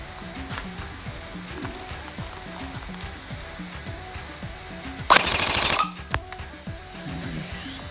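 A Bohan M4A1 gel blaster converted to airsoft fires a short, loud full-auto burst of rapid mechanical clatter lasting under a second, set against quieter background noise.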